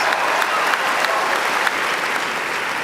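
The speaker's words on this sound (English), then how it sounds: "give yourself a round of applause" Graduation audience applauding a commencement speech, dense steady clapping from a large crowd filling the whole stretch at an even level, with occasional louder claps standing out.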